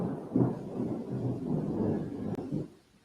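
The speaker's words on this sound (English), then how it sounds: "I've heard a lot of thunder here." A low, rolling rumble of thunder grumbles continuously for a few seconds, swelling and fading, with no voices present.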